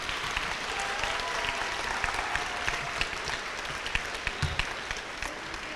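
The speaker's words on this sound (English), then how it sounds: "let's give a big round of applause to our parents" An audience at an eighth grade awards ceremony gives parents sustained applause, with a steady wash of clapping and a few sharper, closer claps standing out toward the end.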